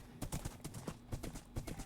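Horse hooves clip-clop steadily in a video game, a rhythmic run of close, even hoofbeats with no talking over them.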